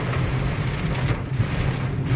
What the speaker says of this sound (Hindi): बताइए 10 मीटर पे बारिश एकदम से हुई, एकदम से रुक गई, एकदम से हुई, एकदम से रुक गई